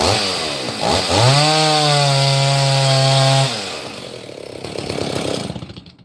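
Stihl or McCulloch chainsaw, sharing the same chain and freshly touched up with a file, revving up to a loud sustained high whine, holding steady, then dropping back to a rough idle.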